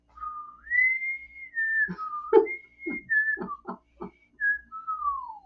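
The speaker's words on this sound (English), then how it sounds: "I don't whistle very well" A lone person whistles a wandering tune with long sliding held notes and short staccato bursts, close and fairly loud, with no talk over it.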